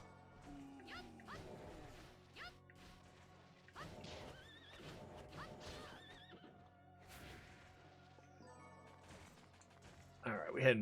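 A horse boss whinnies in the video game Bloodstained: Ritual of the Night, several neighs spread across quiet stretches with thuds and a loud crash at the end.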